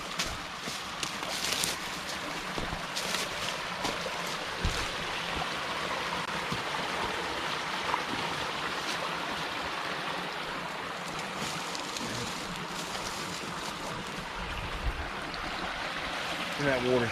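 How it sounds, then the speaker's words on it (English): Flowing stream water and a waterfall in a forest produce a continuous rushing hiss throughout, steady and moderately near, with occasional brief knocks and faint voices. "The waterfall's peaceful."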